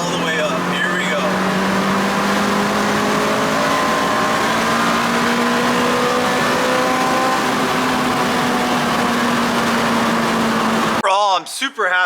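Toyota Celica GT-S fitted with a short ram intake accelerating hard in a long pull through third gear, engine note rising steadily and loud, close and continuous, ending with a brief burst of talk.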